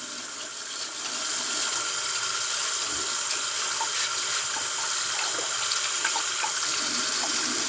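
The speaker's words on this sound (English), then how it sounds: "so then you can rinse this out properly" Tap water runs steadily into a sink while the tank of a Bissell Little Green ProHeat carpet cleaner is rinsed out, a continuous close splashing hiss with small bumps from the tank being moved, and no talking.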